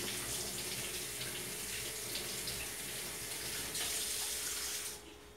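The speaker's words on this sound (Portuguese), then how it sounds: "Aí eu passo uma aguinha porque é um furô." Tap water runs steadily over ice pops taken from a foam cooler, a continuous close splashing rush with no talk, cutting off abruptly near the end.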